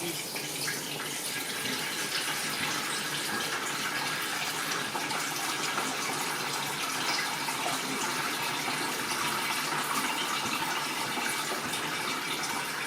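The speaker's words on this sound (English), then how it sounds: "So now all I have to do is pour it back into the pot." Homemade chicken stock made from scraps is poured back into a pot in a kitchen, a steady continuous stream of pouring liquid running unbroken for several seconds, fairly close and even in loudness.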